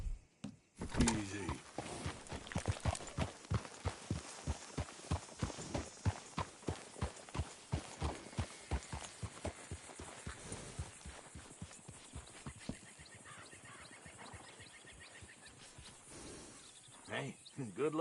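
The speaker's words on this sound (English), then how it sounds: "Hey, good-looking horse there." Steady clip-clopping horse hooves in a video game beat in a quick, regular rhythm, close and clear, slowing near the end.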